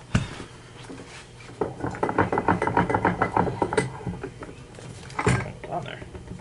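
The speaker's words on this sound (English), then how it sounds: "we're gonna set that in the vise" A metal wheel axle part from a Kirby vacuum is clamped into a bench vise. Close, rhythmic metallic clicks and cranking knocks repeat for a few seconds, with a voice heard alongside.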